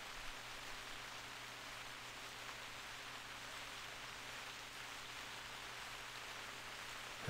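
Soft, steady rainfall in the video game theHunter hisses continuously with a faint low hum underneath, fairly quiet and even throughout.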